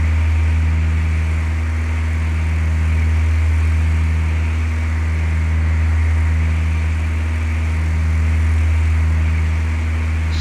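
Propeller airplane engine in Flight Simulator 2004 powering up toward 2400 RPM, a loud steady droning hum with a low pulsing throb, continuous and close with no talking.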